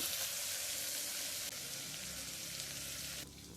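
Avarekalu beans and onions frying in a pan give a steady, close sizzle that continues evenly and drops slightly near the end.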